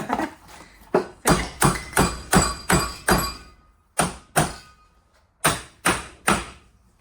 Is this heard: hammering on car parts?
yes